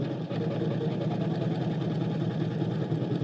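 A Janome Continental M17 embroidery machine stitches a letter with a steady, low mechanical hum and fast rhythmic needle chatter, continuous and close throughout.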